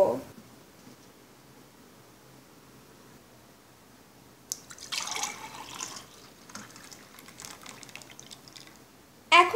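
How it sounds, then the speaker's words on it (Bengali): Blended lemon lassi pours from the blender jar into a glass. The liquid trickles and splashes faintly for several seconds after a quiet start. "এবার আমি একটি গ্লাসে ঢেলে নিব"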